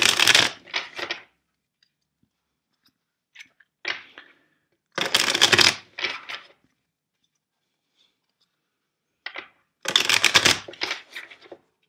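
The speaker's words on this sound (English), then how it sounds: "First, let's shuffle the deck four times for you." A deck of tarot cards is shuffled in several short, close bursts of crisp riffling and flicking, separated by quiet pauses.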